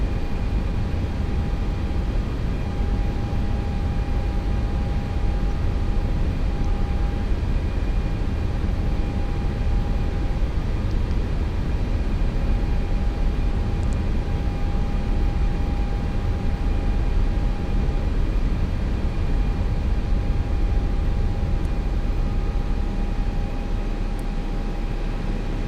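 Airbus A320 jet engines at idle thrust in the Flight Factor A320 simulator, a steady, loud broadband roar with a faint constant whine, unbroken for the whole stretch with no talk.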